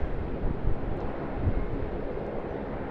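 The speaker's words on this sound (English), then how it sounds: "ANA Boeing 787 now making its way." ANA Boeing 787 rolling at Sydney Airport before a runway 25 departure, heard as a steady low broadband engine rumble from a distance, with some wind buffeting the microphone and no talk.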